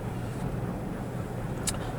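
A Subaru Outback's boxer engine pulls along a straight road, its steady low drone heard from inside the cabin with faint road noise throughout.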